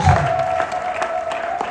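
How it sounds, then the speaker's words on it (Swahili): Audience in a church service claps together in a dense burst of applause, loud and close, with a faint held tone under the clapping throughout. "Hebu mpatie Bwana makofi."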